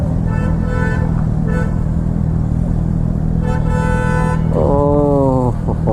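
A loud motorcycle passing in dense night traffic, engine roar steady and close under heavy road noise, with tonal horn toots breaking through near the end.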